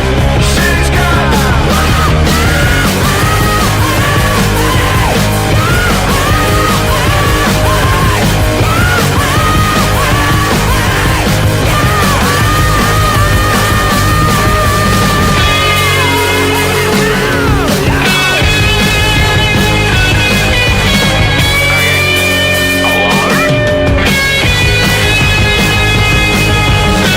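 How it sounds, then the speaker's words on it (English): Loud rock song with distorted screaming guitars and yelled, screaming vocals, dense and driving throughout, with sustained wailing guitar lines emerging in the later part. "Screaming guitars and screaming voices."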